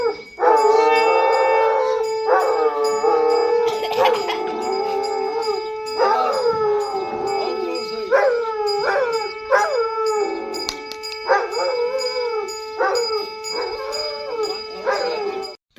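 A village dog howls along with a conch shell blown during morning puja, the conch's steady droning tone running throughout while the dog's long, wavering howls rise and fall in repeated phrases close by.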